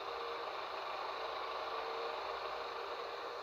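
Tractor engine in the Farming Simulator 19 farming game, a steady droning mid-range hum held at constant level throughout, with a faint rattly vibration and no voices.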